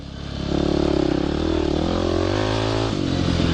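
A dirt bike engine revs steadily up close, a buzzing, rattling drone that climbs slightly in pitch and holds loud throughout.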